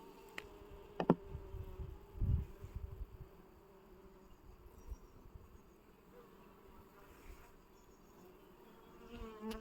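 Bees buzz in a close, low drone around a hive, with a few louder passes near the start and a quieter hum continuing afterward.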